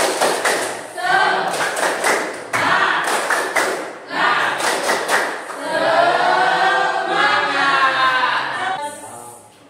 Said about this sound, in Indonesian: sebelumnya kita tepuk semangat dulu. Tepuk semangat